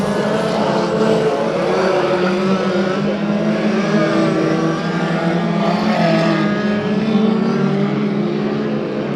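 Race cars roaring at Bakersfield Speedway, a loud continuous engine drone with layered whining tones from several cars running laps on the oval.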